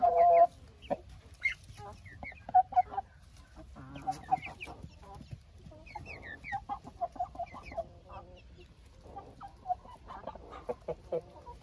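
Roosters and hens cluck and squawk in repeated bursts close by, a busy flock of farmyard chickens calling over a steady low background.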